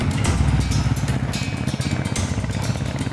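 A Royal Enfield motorcycle engine rumbles steadily and loudly close by, a continuous low throbbing with a slight clattering edge.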